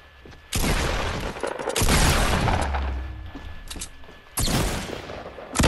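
Gunfire in the Fortnite video game: loud bursts of rapid shots and booms in several clustered volleys with short gaps between them.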